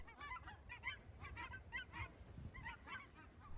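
A large flock of cackling geese honks continuously in the distance during a goose hunt over decoys, a steady chorus of overlapping high calls heard faintly with no talking.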